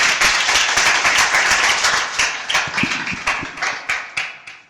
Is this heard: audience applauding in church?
yes